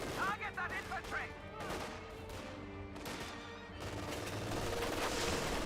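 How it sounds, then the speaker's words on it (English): Incendiary artillery rounds fired in Company of Heroes 2, a dense rumble of distant booms and gunfire rolling continuously under a voice commentating over the battle. "Oh, we got now the incendiary rounds being fired away."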